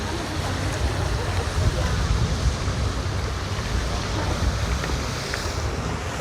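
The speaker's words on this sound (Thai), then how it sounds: "ลมเยอะ" Strong wind and surf by the water at a New Year's Day prayer gathering churn in a heavy, continuous roar, with gusts buffeting the microphone and low rumbling throughout.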